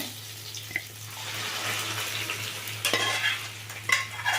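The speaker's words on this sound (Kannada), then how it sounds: "ಈಗ ಎಣ್ಣೆನಲ್ಲಿ ಇದೆಲ್ಲ ಚೆಂದಾಗಿ ಫ್ರೈ ಆಗಿದೆ" Onions sizzle in hot oil for a moong dal curry, a soft crackling fry with occasional stirring scrapes and small clinks, fairly quiet and close.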